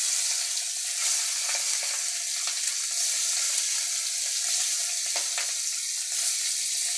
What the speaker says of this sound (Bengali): তেল গরম হয়ে গেছে মাছগুলো এবার আমি ছেড়ে দিচ্ছি